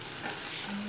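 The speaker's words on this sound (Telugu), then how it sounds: "బాగా ఫ్రై చేసుకుందాము" Oil sizzles steadily in a pan as food fries for aloo kurma, a brief, soft, continuous crackle with no voices.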